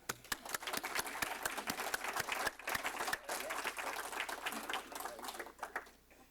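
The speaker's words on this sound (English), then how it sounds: "All Paul Harris Fellows present, please stand to applaud our awardee as he becomes a Paul Harris Fellow +1." A standing room of Rotary club members claps for a newly named Paul Harris Fellow, the sharp individual hand claps distinct and moderately close over a softer bed of crowd applause, fairly quiet overall.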